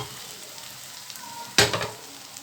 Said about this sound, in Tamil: இது நல்லா கிளறி கொடுக்கலாம் இது நல்லா அந்த பச்சை மனம் போகட்டும் அது வரைக்கும் வதங்கி வரட்டும்